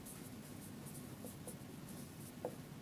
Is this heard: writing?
yes